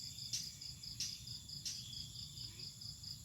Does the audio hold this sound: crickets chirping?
yes